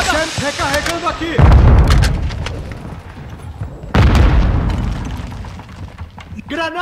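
Heavy booming thermite blasts and gunfire from Call of Duty: Modern Warfare II multiplayer, with the AK-74u in play, two big low-end bursts landing about two and a half seconds apart, close and loud, with a voice briefly heard at the start.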